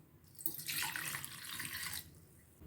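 Water runs from a tap and splashes into a bowl of tamarind set to soak for fish curry, a steady hissing pour of about a second and a half that starts and stops abruptly, with no talk.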